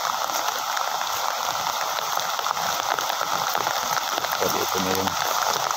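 Floodwater rushes steadily through a drainage canal during heavy rain in Palarao, Leyte, a dense continuous wash of noise with someone talking over it.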